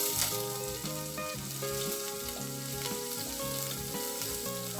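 Onion and garlic fry in a pan, the base for a chicken tinola, giving a steady sizzle that sits beneath louder background music throughout.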